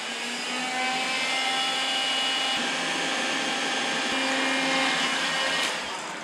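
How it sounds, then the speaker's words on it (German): A heat gun blows steadily as it melts hardened beeswax to clear a clog, a constant broadband airy roar with a few faint knocks, close and alone without talk. "Jetzt kommt der Heißluftföhn zum Einsatz"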